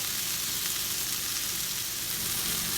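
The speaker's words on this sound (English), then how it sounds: "I'm going to put my garlic in now" Garlic sizzling in a pan with onions, tomatillos and peppers, a steady close crackling fry with a bright hissing texture and no pauses.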